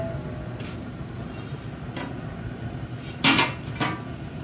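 Boiling crabs and shrimp being stirred in a large pot in Louisiana, with a couple of sharp metallic clanks and scrapes over a steady low burner rumble, no talk.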